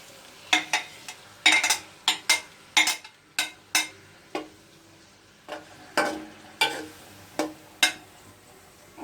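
Tomato paste is worked into chicken karahi in a pan with repeated scraping spatula strokes, irregular bursts of close, crisp clatter over a faint sizzle.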